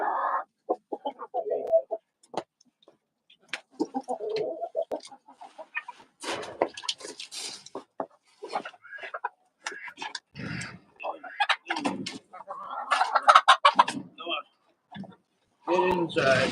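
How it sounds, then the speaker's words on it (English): Backyard hens cluck and squawk in bursts close by, with a rooster-like call among them, while a person talks to the flock between the calls. "These chickens."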